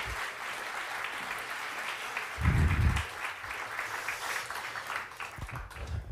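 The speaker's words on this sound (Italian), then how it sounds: "applauso." An Italian audience gives warm applause to welcome a speaker at a talk on Bizet's opera Carmen, a steady, fairly soft patter of clapping with a brief low thump partway through.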